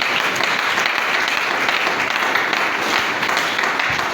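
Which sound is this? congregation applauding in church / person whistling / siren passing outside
congregation applauding in church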